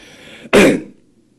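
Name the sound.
coughing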